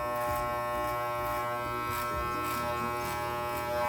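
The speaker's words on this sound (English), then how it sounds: "I would grab a number 1 guard, clip it on, open, and then just work the beard according to the direction of the hairs" Electric hair clippers fitted with a number 1 guard trimming a beard give a steady, close, harmonically rich buzz that runs without pause, with slight shifts in tone as the blade moves through the hair.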